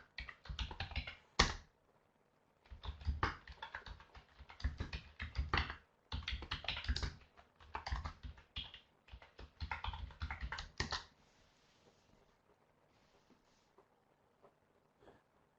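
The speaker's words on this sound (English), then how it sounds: "I type in the chat." Someone types on a computer keyboard in quick bursts of close key clicks, with short pauses between runs and a long quiet stretch at the end.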